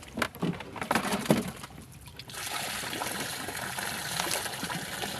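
Water being drained out of a fish pool trickles and gushes steadily, a few splashes and knocks at first, then a continuous broadband pouring flow that runs to the end.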